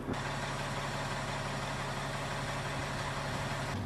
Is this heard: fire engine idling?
yes